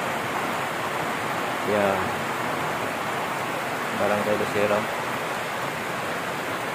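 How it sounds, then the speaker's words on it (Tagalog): Heavy rain pours steadily during a cross-country ride near Barangay Lucero, Capiz, a broad constant hiss that fills the clip, with a voice speaking briefly over it twice. "Lakas ng ulan."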